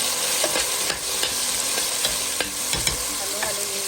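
Pork hock with pineapple and tofu is stirred in a frying pan, a utensil scraping in rhythmic strokes over a steady, close sizzle.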